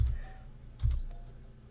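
A few soft keyboard clicks and taps from typing on a computer keyboard during a typing game, sparse and faint in a quiet room.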